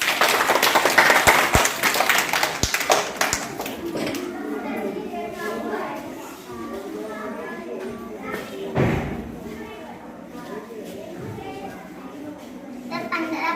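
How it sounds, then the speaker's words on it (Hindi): Schoolchildren in a classroom clap for a classmate, a quick burst of sharp, close claps that fades into children's chatter and an adult voice talking. "खुशी के लिए तालियां बजाइए।"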